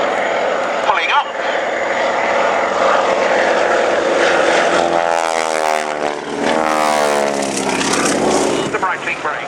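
Propeller aircraft at an airshow display with power coming on, a loud sustained engine drone whose pitch sweeps as it passes, with a commentator talking over it throughout.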